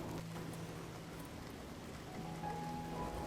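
Rain falls outside a house in Japan. It comes through as a faint, steady wash from indoors, with a low constant hum underneath and no voices.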